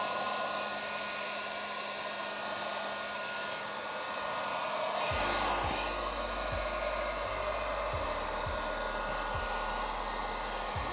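A heat gun heats paint protection film on a car fender, blowing a loud, continuous whooshing airflow throughout, with a low rumbling undertone that switches on midway.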